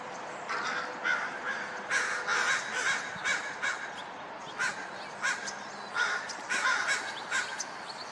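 Crows caw harshly and repeatedly, several birds calling in uneven overlapping bursts as they mob a bird of prey guarding its squirrel kill in a tree.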